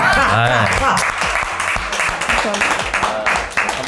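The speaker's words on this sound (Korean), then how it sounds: "고생하신 두 분께 모두 박수를." Applause for two hosts on a diet talk show, a brief burst of clapping mixed with voices and laughter running over it throughout, close and lively.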